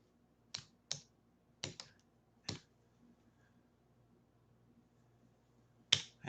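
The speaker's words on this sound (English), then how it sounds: "I'm typing to the IT guy because I see something you guys don't see." A few sharp, isolated keyboard clicks from typing a message, in sparse bursts with a longer pause between them, fairly close and quiet in an otherwise still room.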